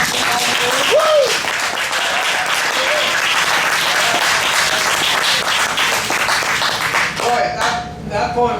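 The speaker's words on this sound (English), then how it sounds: "Can we get another round of applause?" Audience at a poet laureate stage takeover giving a full round of applause, with dense, loud clapping sustained for about eight seconds, a few whoops rising over it and voices near the end as it fades.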